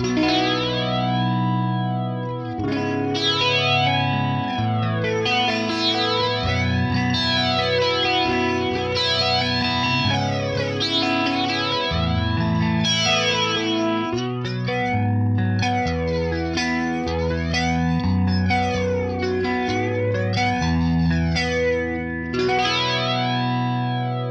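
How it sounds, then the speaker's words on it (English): Clean electric guitar chords through an 80s rack flanger placed after the cab on an Axe-Fx III, the jet-like whoosh rising and falling continuously across the strumming, with a shimmering, spacious tone. "this 80s rack flanger sounds great placed after the cab for a big sparkly clean"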